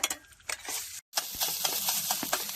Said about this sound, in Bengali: ডিম ভাজা প্রায় হয়ে গেছে